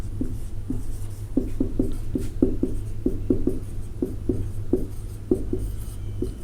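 A maths solution written by hand with a pen on paper, a close series of quick, light scratching strokes in irregular bursts over a low steady hum.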